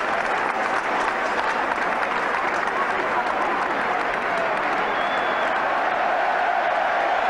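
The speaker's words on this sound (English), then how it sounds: "gets a big cheer" A football crowd at Manchester United against Ipswich Town cheers as a substitute comes on, a broad sustained roar that stays even and distant throughout.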